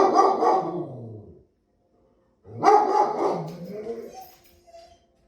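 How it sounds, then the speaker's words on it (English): Dogs barking nearby in two loud bursts, each a cluster of rough barks and yips trailing off into a whimper, separated by a couple of seconds of silence. "the things that are going on around us, like barking dogs"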